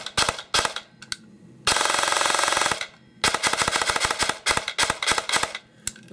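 An airsoft gun driven by an ASG Infinity CNC motor fires several loud, rapid full-auto bursts in close succession, with one longer sustained burst and short gaps of quiet between volleys.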